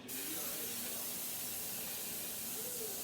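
Cooking spray hissing from an aerosol can onto a barbecue grill, a steady continuous spray lasting about three seconds, close and fairly loud with no talk over it.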